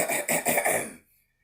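A bird producing a short, raspy throat-clearing sound, a quick burst of three or four harsh pulses lasting about a second, close and alone before falling silent.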